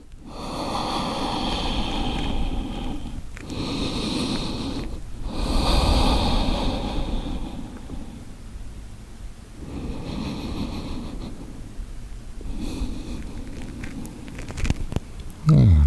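Deep, slow breathing during yoga practice, long loud inhales and exhales repeated up close, alone with no talk.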